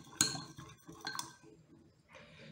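Glass clinks and taps lightly as salt and water are shaken together in a glass container, a few soft knocks and rattles close by, with a fainter swish near the end.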